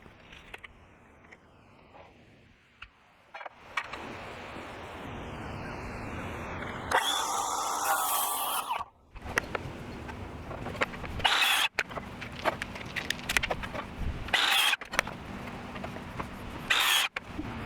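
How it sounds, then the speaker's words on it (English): A power saw cuts 2x4 lumber into pieces in a workshop, with a motor spinning up and then several loud bursts of cutting separated by brief pauses, close and harsh. "measure and cut out the 4 pieces for the top skirt"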